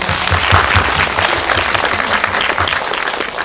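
Hearty applause from a packed indie cinema crowd during a post-film audience talk, dense rapid clapping holding strong and steady throughout before easing slightly at the close.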